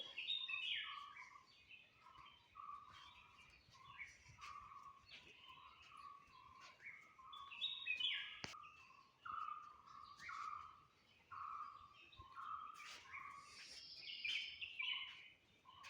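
Several forest birds sing and chirp over a soft background hush near a forest temple, their varied phrases overlapping in a steady, lively chorus at moderate distance with no voices.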